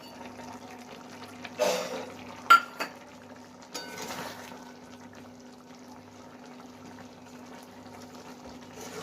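Eggplant stirred into a fish curry in a pan, a few scraping knocks and clinks of a utensil against the pan, close and moderate, over a faint low hum with long quiet stretches.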